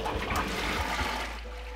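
A worker pouring a thick shampoo mixture of Moroccan Atlas Mountains clay and castor oil, a continuous gurgling stream with splashy trickling that tapers off near the end.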